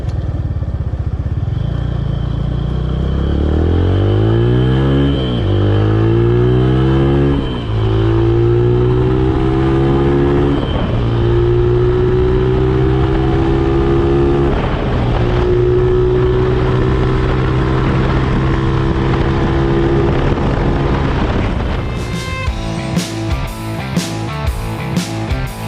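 A Suzuki Tiger Revo motorcycle with its stock camshaft accelerates hard, its engine pitch climbing through several gear changes in a loud, close, continuous roar before settling into an uneven idle with clattering at the end.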